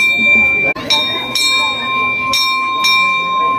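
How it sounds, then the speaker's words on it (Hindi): A bell at a Shiva temple on Mahashivratri is struck several times, each ring clear and sustained, overlapping and lingering, with people talking nearby. "दादी ने भी घंटी बजा ली।"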